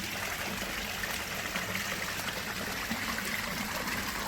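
Water flowing from a koi fry pump and filter setup, a continuous faint trickling and gurgling stream, steady and close, with no talking.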